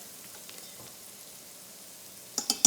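Gluten-free flour roux with vegetables stirred in a pan for beef stroganoff, a faint, soft sizzle with a few light clicks of the spoon against the pan near the end.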